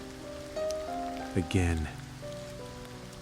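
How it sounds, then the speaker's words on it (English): Rain falls outside in a soft, continuous patter beneath a calm speaking voice. "Outside, it began to rain."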